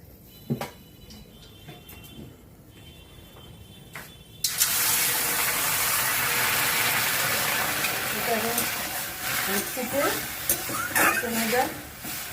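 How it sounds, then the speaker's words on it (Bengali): Water poured into a pan of vegetables and semolina sets off a sudden loud, steady sizzle that continues for several seconds after a few quiet clinks, with a voice speaking over the frying. "আচ্ছা এতে এবার জল দিয়ে দেবো"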